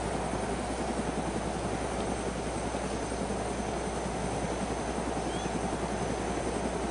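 A helicopter in a zombie survival video game drones with a steady, loud rotor thump and engine roar throughout, with no talk.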